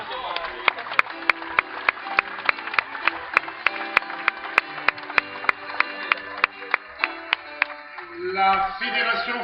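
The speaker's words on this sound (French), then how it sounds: "On peut applaudir." A crowd at a French national doubles sport boules championship in Le Puy-en-Velay claps in slow unison, a rhythmic series of sharp, evenly spaced beats, before breaking into a looser burst of cheering and chatter at the end.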